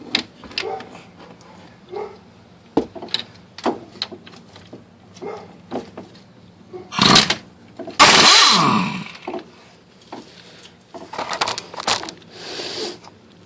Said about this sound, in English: So then we're going to tighten the bearing down.